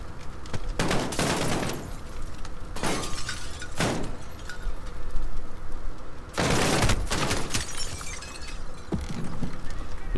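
Gunfire in the video game Modern Warfare: loud, close bursts of shots and sharp cracks at irregular intervals, with glassy shattering impacts mixed in, under continuous battle noise.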